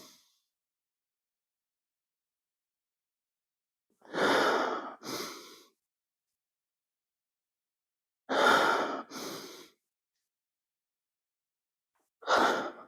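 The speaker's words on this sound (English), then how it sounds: "taking a big breath" Three big, forceful breaths taken while bracing for a front squat, each a long hissing inhale-exhale with a short follow-on puff, separated by several seconds of silence, close and clear with no talk.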